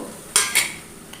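Grated coconut goes into a grinder jar for pachadi paste, making two quick close clinks of metal against metal followed by a faint tap, with no voices.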